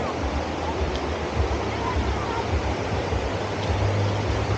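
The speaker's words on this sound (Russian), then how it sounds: "А это река Гизельдон." Steady broadband rush of the flowing mountain river Gizeldon in North Ossetia, a continuous even roar filling the scene with no voices over it.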